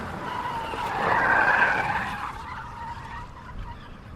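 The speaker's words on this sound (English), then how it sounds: "I heard the roar of his car in the garden, the tires squealing on the asphalt road" Car tires squeal on asphalt in one sharp skid that swells, peaks briefly, then fades into a lower rolling engine rumble, fairly close, with no talking.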